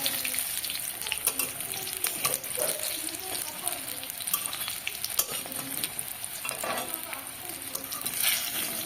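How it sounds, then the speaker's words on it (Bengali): Polta leaf fritters frying in hot oil give a steady crackling sizzle with occasional spatula scrapes and faint water-like patter, heard close with no talking. "সমস্ত বড়াগুলো আমার ভাজা হয়ে গেছে, এবার আমি তেল ছেঁকে তুলে নেব।"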